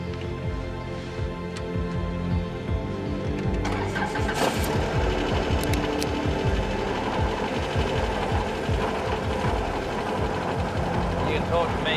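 A helicopter engine cranks up close by, a whining turbine and rattling mechanical chatter building into a steady running drone that continues throughout, with no talking.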